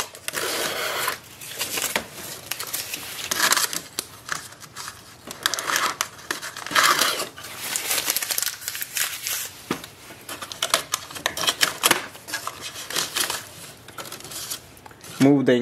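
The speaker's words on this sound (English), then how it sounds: "So we need to take out this paper. So slide it out and try to take it out from any side you can." Jammed paper being worked free from a Canon Pixma TR8620 printer, with repeated close crinkling, rustling and plastic clicks in irregular bursts, while a person talks throughout.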